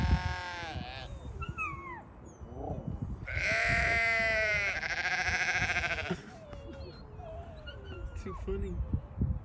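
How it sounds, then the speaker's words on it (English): A Dorper ram lamb in a field with Great Pyrenees dogs bleats loudly and repeatedly, with long wavering cries and shorter calls, close to the recorder. "Great Pyrenees and a ram sheep. Ram lamb. A white ram lamb."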